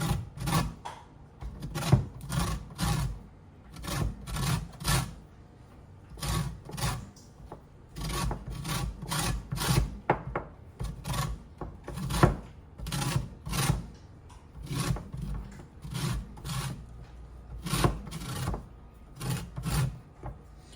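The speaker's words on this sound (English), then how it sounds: "I'm gonna finish zesting this lemon" Lemon being zested in short rhythmic bursts of scraping against a grater over a small dish, close and crisp, with brief pauses between strokes.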